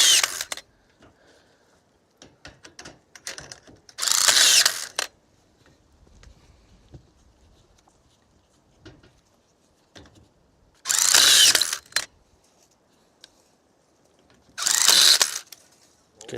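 Rebar being tied with iron wire on foundation molds at a construction site: three separate loud bursts of whirring, ratcheting tool action, each about a second long, separated by quiet stretches with faint clicks and handling.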